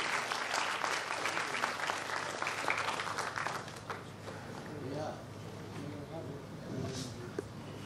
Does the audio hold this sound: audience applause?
yes